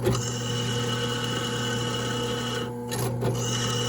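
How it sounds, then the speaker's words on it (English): A cheap Menards drill press left running with its bit spinning freely in the air, giving a steady mechanical hum with a low tonal drone that holds fairly level, dipping briefly near the end. "I let the bit just keep running. That's cooling it off, spinning like that in the air."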